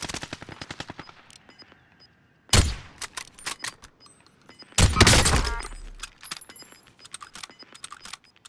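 Call of Duty: Modern Warfare multiplayer gunfire, with two loud close bursts of automatic fire and scattered quieter shots and clicks between them.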